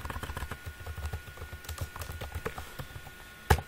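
Keys clatter in a quick, uneven run as a line of code is typed on a computer keyboard, close and moderately loud, ending with one sharper, louder keystroke near the end.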